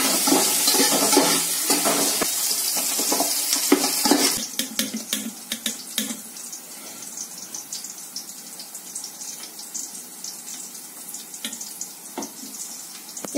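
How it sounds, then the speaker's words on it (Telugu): Tomato pieces sizzle and are stirred in a hot pan while prawn biryani is cooked, a loud hiss at first that settles into a softer crackle with scattered stirring clicks. "ఇప్పుడు టమాటా ముక్కలు వేద్దాం."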